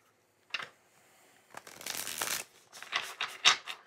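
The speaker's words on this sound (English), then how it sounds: "And we'll shuffle the cards." Moon Baby Tarot cards being shuffled by hand nearby, a few short riffles and slaps followed by a longer riffling burst in an otherwise quiet room.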